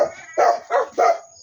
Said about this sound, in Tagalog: Ngayon ang mga aso.